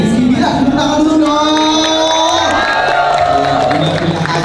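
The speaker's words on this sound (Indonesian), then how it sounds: "Tepuk tangan dulu" Loud crowd cheering and whooping with clapping greets guests Lesti and Rizky Billar at a Leslar Records event, steady and continuous throughout, with voices shouting and a melodic backing underneath.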